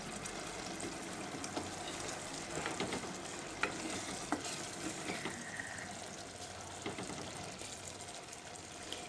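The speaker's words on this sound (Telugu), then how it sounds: "మీడియం ఫ్లేమ్లో ఉంచుకొని వేయించుకోవాలండి." Tomato pieces fry on a medium flame for an amaranth (thotakura) curry, giving a steady close sizzle with occasional stirring clicks and scrapes, no voices.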